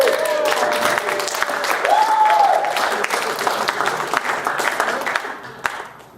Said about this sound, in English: Everybody that applauded